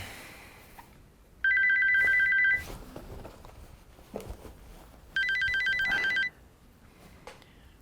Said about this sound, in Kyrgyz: Кафенин кожоюну чалып атат.